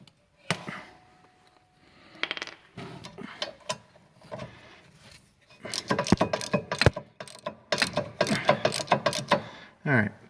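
A 13 mm socket ratchet works at the rear brake bolts of a 2014 Ford Escape, with bursts of quick, loud clicking separated by pauses, busiest in the second half, alongside some talk.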